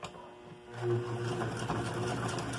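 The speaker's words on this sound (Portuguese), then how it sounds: "Deixo uma quantia de fio lá no fundo, não dou retrocesso e começo a costurar" A sewing machine stitches a fabric dish towel with contrasting thread. After a quiet start it kicks into a fast, even motor whir and needle rattle that carries on steadily nearby.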